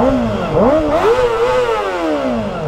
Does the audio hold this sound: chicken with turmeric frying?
no